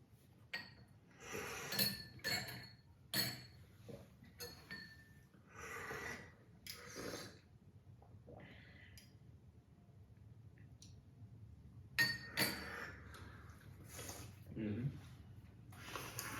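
A large spoon clinks against glassware while Rougui tea is prepared, a series of bright, irregular chinks and taps, close and quiet, mixed with soft handling noises and a voice speaking at times.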